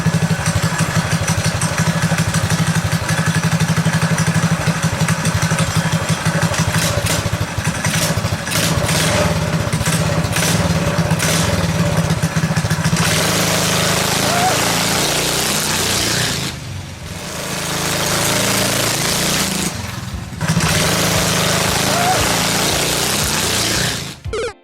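A modified Predator 212cc go-kart engine with an upgraded exhaust runs steadily and loudly, a dense rumbling drone that holds for most of the stretch with two brief drops in level near the end.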